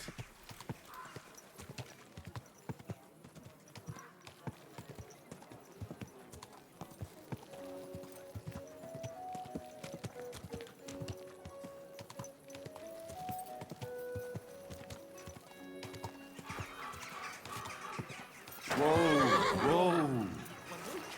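Hooves of a horse clip-clop steadily in the medieval game Kingdom Come Deliverance 2, quiet and continuous, with a musical phrase in the middle and a loud neigh near the end; speech is mixed in at times.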